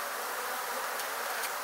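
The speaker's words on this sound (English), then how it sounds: "Plenty bees." Bees swarm with a steady, close, high-pitched buzzing while a hive is being removed, the drone filling the air without a break and no voices over it.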